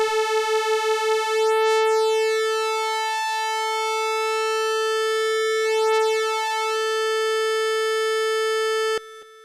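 Sawtooth oscillators on an analog synthesizer drifting back into tune, a loud steady buzzy tone whose slow phasing sweep gradually settles before the sound stops sharply near the end.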